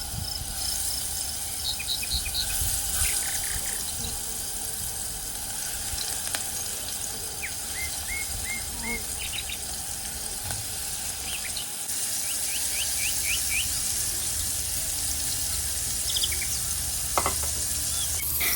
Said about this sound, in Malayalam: ആ വെളിച്ചെണ്ണയിലേക്ക് ഇതേ നമ്മൾ ചിക്കൻ മസാല തേച്ച് വെച്ചിരിക്കുന്ന ചിക്കനായിട്ടാണ് ആഡ് ചെയ്യുന്നത്